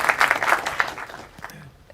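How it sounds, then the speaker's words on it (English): Audience applause after a SwiftUI talk, a brief burst of dense clapping that thins and fades out within two seconds. "Could you all join me in giving them a round of applause?"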